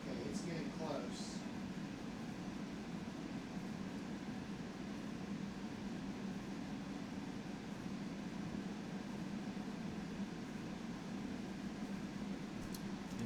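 A rubber stamp engraving machine runs at 130 millimetres per second with a 0.02 line interval, producing a continuous mechanical hum with a fan-like whir, steady and moderate in level, with a brief click near the start and end.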